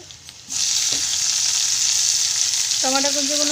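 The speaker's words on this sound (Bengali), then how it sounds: "এতে দিয়ে দেবো ওই টমেটো কুচিগুলো" Chopped tomatoes hit a hot pan of fried onions and sizzle loudly and steadily, with a brief stir and a faint clink near the end.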